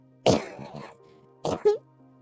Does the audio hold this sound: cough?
yes